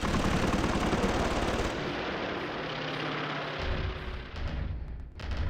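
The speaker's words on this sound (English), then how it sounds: "Strafing Ford Airfield. Strafing Gravesend." Aircraft machine guns strafe an airfield in a Battle of Britain combat game, a loud continuous rattle of fire that thins out partway through over a dense roar of engines and impacts.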